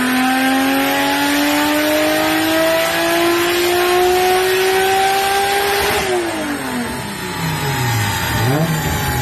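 An 850 HP Nissan R33 GTR V-Spec with a 2.8-litre RB28 stroker engine accelerates hard on a street run, its loud engine note climbing steadily through the revs, then a gear change drops the pitch and it pulls again.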